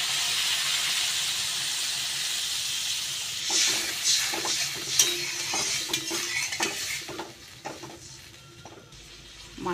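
Water poured into mustard masala simmering in a pan for a small hilsa curry, bringing a bright steamy hiss followed by bubbling and repeated stirring taps, close and without speech.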